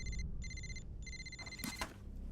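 Telephone ringing unanswered, repeated electronic ring bursts with short gaps between them, heard moderately quietly over low background rumble.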